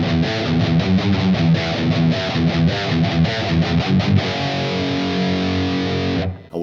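Loud distorted electric guitar chugging a fast, driving metal riff, then ringing out on a sustained power chord before cutting off abruptly near the end.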